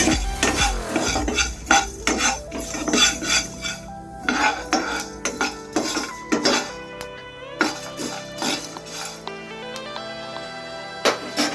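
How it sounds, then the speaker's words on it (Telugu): Stuffed brinjal curry fries on a low flame while a spoon scrapes and clinks against the pan in repeated bursts, close and loud, with a soft sizzle underneath and no voices. "లో ఫ్లేమ్లోనే వేయించుకోండి"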